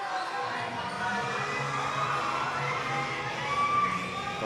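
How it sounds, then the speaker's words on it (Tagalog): Crowd at a youth U14 basketball game in Mindoro cheering and shouting steadily, with children's voices in the mix and loud, continuous noise throughout. "Yung crowd ng Mindoro dito."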